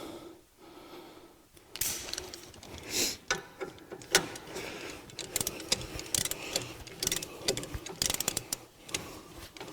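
Torque wrench tightening a shock absorber bolt on a fourth-generation 2009–2014 Acura TL or Honda Accord, heard as close metallic ratcheting clicks and clanks in irregular bursts in a quiet garage.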